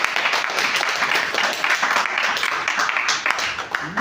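An audience claps together for a child in a continuous ragged wave of applause, loud and close, holding steady throughout.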